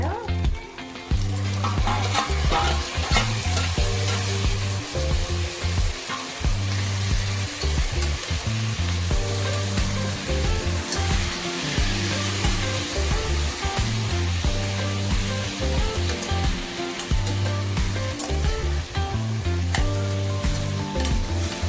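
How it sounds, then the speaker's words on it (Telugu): Tomatoes fry and hiss in a hot pan with a steady, loud sizzle, while a spoon scrapes and stirs them in repeated rhythmic strokes, with no voices over it. "టమాటా బాగా మగ్గేంత వరకు కలుపుకోవాలి."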